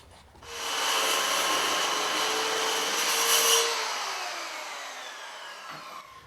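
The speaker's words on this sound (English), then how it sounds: "By using a wedge and a circular saw, I can straighten the stud." A circular saw cuts through a wooden wall stud during framing repair, one steady loud whine of about five seconds that slowly fades as the cut finishes, with no talk.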